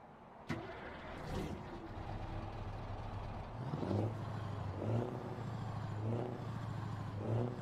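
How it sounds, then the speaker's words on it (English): A Scania R500 truck's V8 engine cranks and catches in a video game, then idles with a deep throaty rumble and a few revving swells, heard alone. "Proper nice V8."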